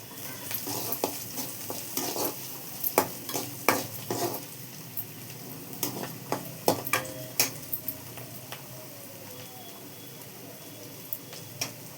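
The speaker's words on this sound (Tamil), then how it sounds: "வெங்காயம் இன்னும் நல்லா சவரணும்" Onions sautéing in a pan for a Karthigai vaalai fish curry, with a continuous sizzle and frequent sharp scrapes and taps of a spatula, busier early and thinning out later.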